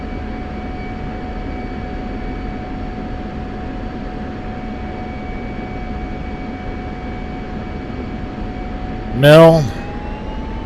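An F-16 jet engine rolls for takeoff in the DCS flight simulator, a steady, even roar with a constant whining tone throughout, and a single brief spoken word cuts in near the end.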